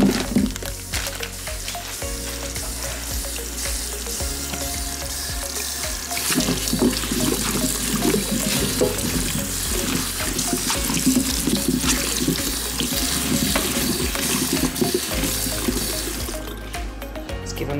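Brussels sprouts being washed under a running kitchen tap, a loud steady rush of water splashing into a sink for the whole stretch, close by, with shifting tone as the sprouts are rinsed and no talking.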